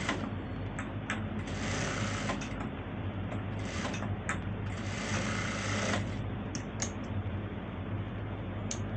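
Sewing machine stitching rubber elastic for pants, running in bursts of rapid mechanical whirring and ticking, with short pauses and clicks between runs, close and steady.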